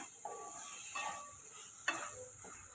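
Soya chunks sauté in a hot pan for soya chukka, with a soft continuous sizzle broken by a few sharp stirring scrapes and clatters close by.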